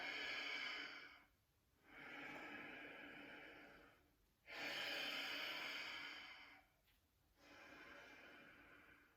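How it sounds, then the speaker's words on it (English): Slow, audible yoga breathing, three long airy exhales alternating with quieter inhales in an even rhythm, close and soft with no talking. "breathing in through the back of your heart and breathing out through the front of your heart"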